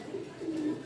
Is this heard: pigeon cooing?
yes